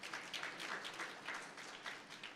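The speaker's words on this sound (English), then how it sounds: "Can you give him one round of applause again?" Audience applause at a national food fortification summit, a steady wash of many hands clapping in a hall, fairly faint and continuous without talk.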